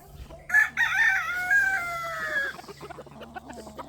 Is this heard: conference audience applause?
no